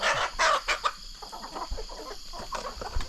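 Chickens clucking nearby, a series of short cackling calls with brief pauses, fairly loud over faint background noise.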